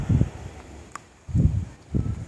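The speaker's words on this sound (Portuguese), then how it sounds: "Ó a ventania." A strong gust of wind rustles through leaves and trees on a rural plot of land, coming in three loud swelling bursts separated by calmer moments, with no talking.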